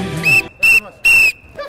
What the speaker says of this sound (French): merci pour ce coup de sifflet